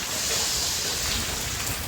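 Rain falling during a storm in Dwarka, Gujarat, a dense steady hiss of downpour with some wind, brief and fairly even in level, with no voices.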